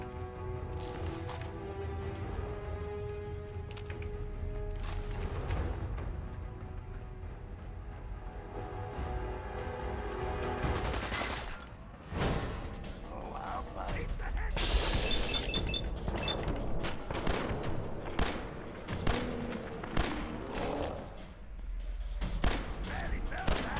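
Bursts of gunfire ring out in the video game Fallout 4, a mix of sharp single shots and rapid volleys with loud cracks scattered unevenly through the stretch, with a player's voice speaking and exclaiming over the action.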